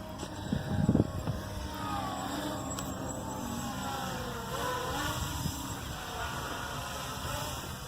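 A small drone flies against strong wind, its engine-like buzz droning steadily at moderate distance under gusty wind noise, with a short bump of handling noise near the start.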